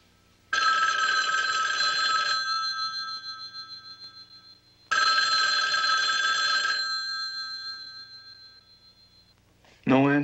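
An old-style telephone rings twice in long, steady electronic bursts after an apartment number is dialed, loud and close, with a pause between rings and a clunk at the end.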